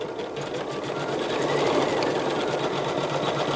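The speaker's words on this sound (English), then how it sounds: "Your designs will be sewn exactly where you want them to be." A Janome S9 embroidery machine sewing designs, giving a steady, fast mechanical whir with even rapid stitching pulses, loud and close throughout.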